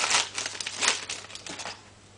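A plastic package is torn open and unwrapped at close range, producing a few seconds of crisp crinkling and rustling bursts that taper off.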